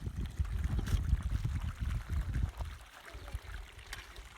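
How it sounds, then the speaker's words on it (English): Water pours and splashes as a child waters bean plants outdoors in a garden in Oaxaca, Mexico, a fairly close, uneven stream that thins out near the end. "here Kiki is watering the beans"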